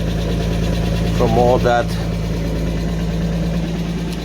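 A 1991 Mercedes 190E idles steadily through its exhaust with a muffler in poor shape, a close, continuous low engine drone running throughout while someone speaks briefly over it partway through.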